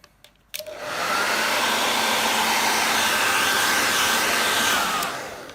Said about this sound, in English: we will do the hair drying.